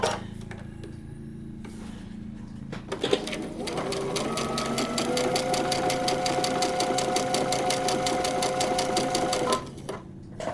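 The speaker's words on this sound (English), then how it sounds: "then I'm going to start stitching between section 1 and 2" A sewing machine stitches between paper-pieced quilt block sections, starting after a few seconds of quiet handling and running as a steady, close, even-paced whir for about six seconds before stopping.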